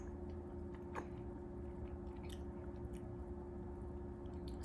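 Chewing of a See's toffee chocolate, with soft close crunches and sticky squishing in uneven bursts, faint against a low background hum.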